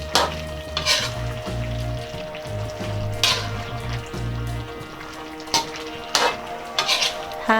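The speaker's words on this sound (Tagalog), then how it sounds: "Hahaluin lang po natin." Beef mechado with green and red chili peppers being stirred in a pan: a soft sizzle under repeated sharp scrapes and clinks of a utensil against the pan, close and fairly quiet.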